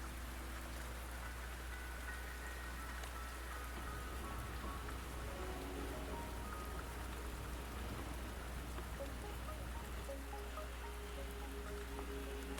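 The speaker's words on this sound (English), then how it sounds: "The rain is subsiding," Steady rainfall in the video game Wuthering Waves, a dense continuous patter of drops on surfaces with a low rumbling bed underneath, holding at an even level throughout with no voices.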